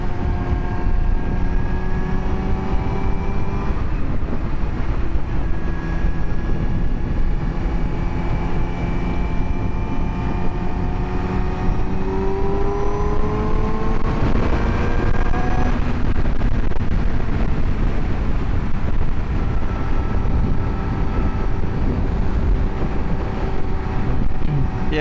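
A 2017 Yamaha R6 sport motorcycle fitted with an Akrapovic exhaust, heard while riding, its engine droning steadily with rising and falling pitch as it shifts, under heavy wind rush.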